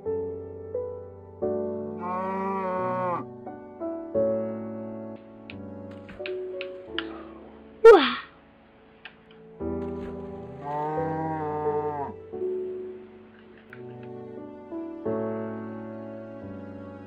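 Red mushroom cow in a video game: several drawn-out low moos spread across the span, alongside harmonic musical tones and a sharp rising squeal near the middle, with no talk.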